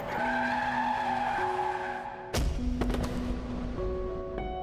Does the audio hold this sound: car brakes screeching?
yes